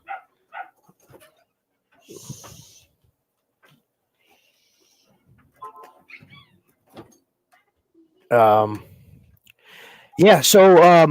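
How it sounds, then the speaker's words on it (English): A few dogs barking in the distance, with faint scattered sounds around them, then a couple of loud, close barks near the end. "Could probably hear my dogs."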